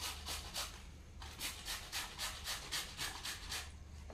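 Fresh bamboo shoot being grated by hand for a vegetable dish, a quiet close rhythmic rasping, about a dozen quick strokes in steady succession.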